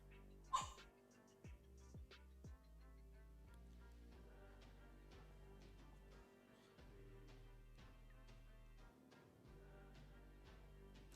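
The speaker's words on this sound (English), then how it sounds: "The dogs are barking at the door." Dogs bark at a door indoors, faint and distant, with a few sharp yips early on and then only low household hum with scattered soft knocks.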